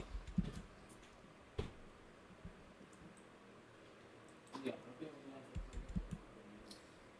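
A few sparse, quiet clicks and keystrokes from a computer keyboard and mouse on a Windows 11 PC, scattered between pauses with faint background hum.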